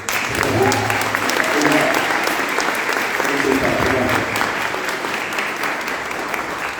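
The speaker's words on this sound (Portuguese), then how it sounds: "vamos saudar essas pessoas com uma salva de palmas" Sustained applause from a church congregation during a Sunday service, a thick even wash of clapping from many hands that stays loud for several seconds while a voice speaks faintly beneath it.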